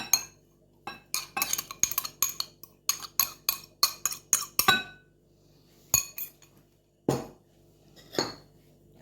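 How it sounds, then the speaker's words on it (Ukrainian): Metal spoon stirring rice mixed with canned fish filling in a bowl, a long run of sharp clinks and scrapes in quick rhythm, then a few spaced knocks against the bowl, close and clear with no talk. "гарно вимішуємо, щоб всі продукти гарно об'єдналися і було однорідне"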